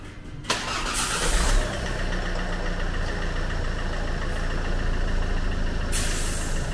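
A 2010 Ford Mondeo 2.0 TDCi diesel engine cranks briefly, catches and settles into a loud, steady rattling idle close by, with a hiss near the end.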